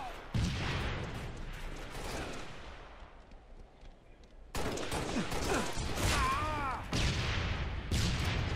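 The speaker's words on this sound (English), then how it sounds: "Good shots there by Shostak" Rapid bursts of gunfire from a capture-the-flag match in a first-person shooter, loud sharp reports clustering in volleys across the whole stretch, with sparse commentary-like voice faintly underneath.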